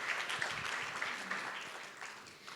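A room full of people applauding, a steady wash of clapping at moderate distance that slowly tapers off.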